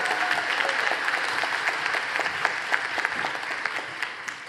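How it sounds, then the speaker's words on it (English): An awards-ceremony audience gives a round of applause for honoree Nora Gomez Saxon, a full, continuous burst of clapping from many hands at moderate volume, with a few louder claps near the end. "Let's give a round of applause to Nora Gomez Saxon."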